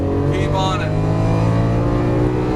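Lamborghini Aventador LP700-4 engine revving under throttle on track, a loud, close, sustained roar with rising harmonics, while a voice talks over it.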